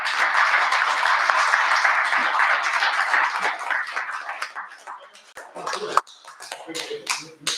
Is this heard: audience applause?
yes